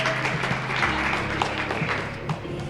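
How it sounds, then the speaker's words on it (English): Applause from an audience at a Black History Month celebration held by a community club, steady and fairly close, a continuous wash of clapping for a few seconds with faint voices mixed in. "Give him a round of applause."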